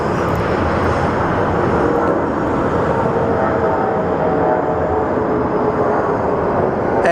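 A Mesa Airlines plane departs at Phoenix Sky Harbor, its jet engines producing a loud, steady broadband roar that holds for the whole stretch, with no talking.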